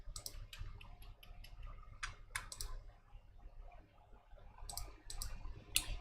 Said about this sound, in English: I was just typing the whole time without sharing my screen